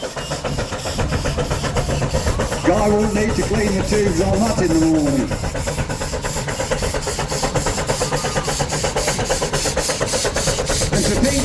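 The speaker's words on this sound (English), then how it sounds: "listen to that sound of that single cylinder engine working" A single-cylinder steam engine built in the 1870s runs at a country steam show, a steady rhythmic mechanical beat with hiss that continues throughout while someone talks over it.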